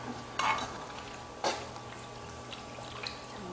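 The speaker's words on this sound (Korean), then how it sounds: "반만 준비된 양념장 반만 넣어서 볶아보도록 하겠습니다" A spoon stirs and scrapes through a pan of food being stir-fried with half of a seasoning sauce, two distinct scrapes over a faint steady sizzle, close by and soft.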